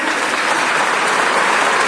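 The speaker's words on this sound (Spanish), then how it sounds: "este fuerte aplauso que te brinda el pueblo del Astre" Strong, steady applause from a festival crowd in Lastres honouring an honoree, dense continuous clapping filling the whole moment with no talk on top.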